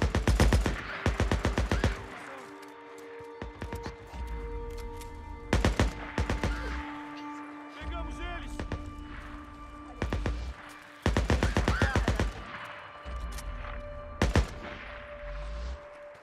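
Gunfire in the video game Days Gone as people kill freakers during a night horde: repeated clusters of rapid, loud shots and short bursts, broken by brief pauses, with low rumbling and ambient tones between volleys.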